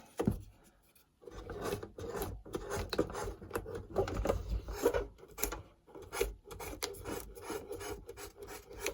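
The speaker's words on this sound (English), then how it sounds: "just a bit of very fine sandpaper" Fine sandpaper rasps across the battery compartment contacts of a vintage 1980s Grandstand Firefox F-7 electronic game, close repeated scrubbing strokes in an uneven rhythm after a brief quiet start.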